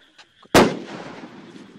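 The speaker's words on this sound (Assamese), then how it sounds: "তেওঁলোকে ফটকা বম ফুটাই তেওঁলোকে বাঘ খেদিবলৈ চেষ্টা কৰিছে" Firecracker bombs set off in Majuli villages to drive away a roaming tiger: one loud, sharp blast with a long rumbling decay, preceded by faint scattered sounds.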